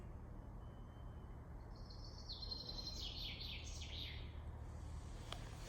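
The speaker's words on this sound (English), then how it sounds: "And the chaffinch is fairly loud at the moment." A chaffinch sings a descending trill of a few seconds from a distance among trees, over a steady background hiss and faint traffic rumble.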